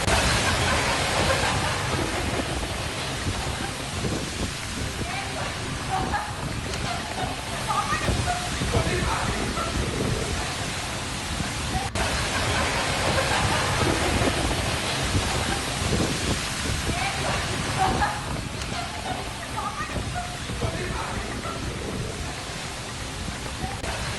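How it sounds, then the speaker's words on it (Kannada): Heavy rain lashes Bengaluru amid strong wind, a dense continuous roar of falling water and gusty rumble that stays steady and loud throughout. "ಜೋರಾದ ಗಾಳಿ ಸಹಿತ ಮಳೆ"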